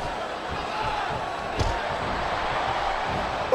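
A dense arena crowd roars steadily in the wrestling game Smackdown vs. Raw 2008, a constant wash of cheering with one brief thump partway through and faint voices mixed in.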